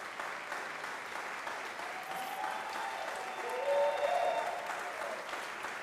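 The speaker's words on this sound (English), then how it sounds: "can I request that you give them a rounding applause?" An audience at the opening ceremony of an international voice competition breaks into sustained applause, a fairly soft, even roar of clapping that swells slightly toward the end.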